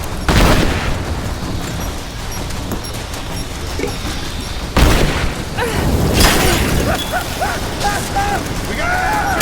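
Gunfire and heavy impacts in the action video game Rise of the Tomb Raider, loud bursts and booms over a busy game soundtrack, with shouted voices.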